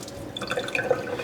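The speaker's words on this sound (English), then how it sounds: "we throw the water from the dry chili" Soaking water is poured off dried chilies for Thai nam prik ong, making a brief, close trickle and splash of liquid.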